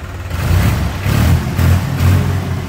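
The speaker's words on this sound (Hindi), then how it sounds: "ट्रैक्टर की आवाज़ में थोड़ा सा फ़र्क है कि साइलेंट है" A New Holland 3630 tractor engine, rated 2400 RPM, runs at a steady low rumble, with a few gentle surges in power; no voices, the motor heard up close.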